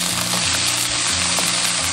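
Pickled cabbage stir-fries in a wok, with a loud, continuous sizzle, close up, and faint stirring scrapes under the hiss.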